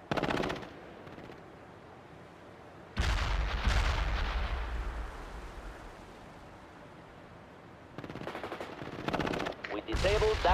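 Heavy machine gun bursts and booming artillery fire from the real-time strategy game World in Conflict, loud rolling volleys with deep rumbling impacts, separated by a stretch of quieter ambient battle noise.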